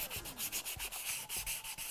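Sandpaper rubbed briskly back and forth over a wooden lamp base, making a close, loud rhythmic scratching with regular strokes about five per second.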